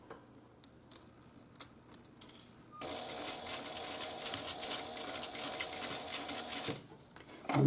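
A sewing machine stitches a fabric wristlet in a steady, fast mechanical run lasting about four seconds, preceded by light ticks and clicks as the fabric is positioned, then stopping abruptly.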